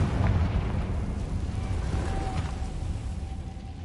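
Bombarda and Confringo spells go off in Hogwarts Legacy with a heavy, rumbling explosive blast that booms loudly at the start and then rolls off into a long, fading roar.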